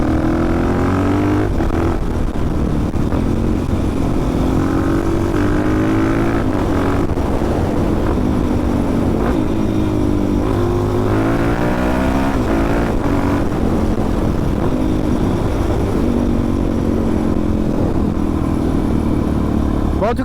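A Suzuki DRZ 400 dirt bike engine drones loudly and continuously up close, its pitch rising and falling as the rider shifts through the gears.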